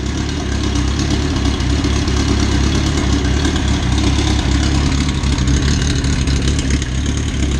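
A B-series EF engine idles hot on a dyno, a loud, steady mid-pitched rumble that holds an even tone throughout with no revving.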